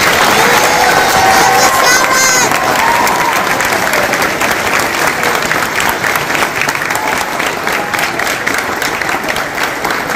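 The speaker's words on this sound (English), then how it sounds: "Now I ask that the families please rise and give one last applause for the great inductees that we have here before us" Standing families give sustained, loud applause at an induction ceremony, a dense even roar of many hands clapping, with a few voices briefly audible at the start.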